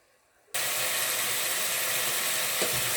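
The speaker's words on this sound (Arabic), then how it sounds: "فوالا باش نخليوه يتقلى لين يسيب الماء نتاعو" Onion, mint and meat frying in a pan for Tunisian chorba frik, a loud steady sizzle bursting in after a brief quiet start and holding dense and close throughout, with no talk.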